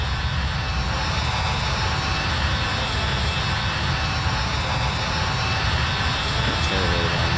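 Embraer E-175 jet engines roar steadily and loudly as a continuous broadband rush with no voices, heard from the cabin on a flight between CLT and HXD.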